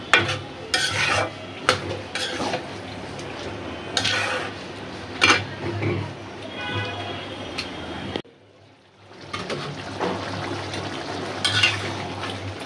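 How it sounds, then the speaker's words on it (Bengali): Beef liver sautéing in a pan with repeated scraping and clanking of a spoon against metal over a steady sizzle, followed by a brief pause and more stirring. "কলিজাটা খুব সুন্দর করে কষানো হয়েছে"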